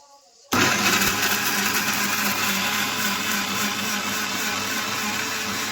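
A kitchen mixer grinder whirs loudly as it grinds a paste, starting suddenly after a brief quiet moment and then running at a steady, continuous high-pitched drone until the end.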